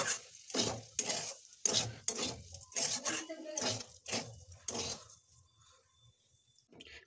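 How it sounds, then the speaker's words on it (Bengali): Three spoons of sugar stirred in a pan over a low gas flame until it melts, for flattened-rice pulao: about eight loud, close scraping strokes in a steady rhythm, then a quieter stretch with faint clinks. "এবার গ্যাসের ফ্লেমটা লো করে এটা এটা চিনিটা ভেজে নিতে হবে যতক্ষণ না চিনিটা গলছে"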